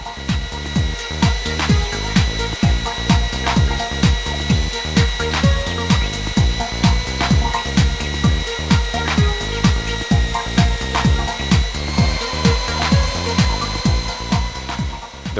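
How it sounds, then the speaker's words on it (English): A core drill bores with a water-cooled bit that is fed by hand, carefully and gently, making a steady, close grinding and rubbing noise that pulses in a regular rhythm about twice a second, with no talking. "Manual, careful and gentle feeding of the drill bit."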